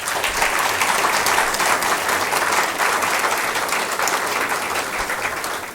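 A large audience at a press awards launch ceremony in Côte d'Ivoire applauds in a dense, sustained ovation, loud and steady throughout with only slight easing toward the end.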